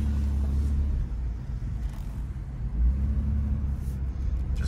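A 3rd gen Toyota 4Runner with a 5VZFE engine and MaxxECU piggyback ECU rolls through a parking lot at part throttle, giving a low, steady rumble that swells slightly, with no talk.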